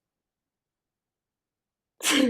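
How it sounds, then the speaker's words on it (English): A single sudden sneeze bursts out after a stretch of silence, loud and close. "I feel like there's a sneeze that's about to come in."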